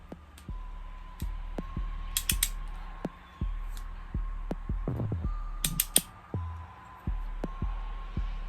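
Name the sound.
torque wrench tightening cylinder head bolts on Yamaha Banshee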